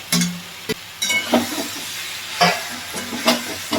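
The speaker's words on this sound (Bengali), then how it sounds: "সমস্ত সবজিগুলো আমি যেগুলো ভেজে রেখেছি সব দিয়ে দেব, দিয়ে এই মশলার সঙ্গে খুব ভালো করে কষিয়ে নেব।" Fried radish and cauliflower pieces sautéed with spices in a pan give a low sizzle broken by several sharp scrapes and clatters of a spatula, close by and with no speech.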